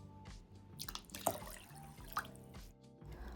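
Lukewarm water poured into a bowl of rice, four bowls of water to two of rice, in a kitchen: soft close splashing and dripping with a brief trickle, fairly quiet, no talk.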